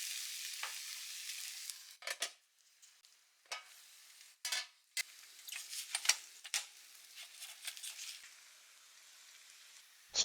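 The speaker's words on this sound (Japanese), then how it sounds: "オムレツはひっくり返して両面焼こう。" An omelette in a frying pan gives a faint, intermittent sizzle with soft crackles and a few brief sharper pops or scrapes, all close by.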